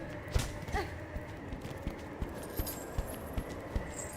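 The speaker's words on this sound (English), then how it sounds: "I hear footsteps." Footsteps in a video game sound as steady, evenly spaced thuds with a clip-clop quality, roughly one every half second, over a quiet background.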